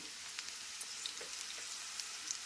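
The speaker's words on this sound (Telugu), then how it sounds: "ఇప్పుడైతే అల్లం వెల్లిపాయ పేస్ట్ అయితే వేసుకుందాం." Ginger garlic paste frying in hot oil with onions gives a quiet, steady sizzle with faint crackles and pops, heard alone without talk.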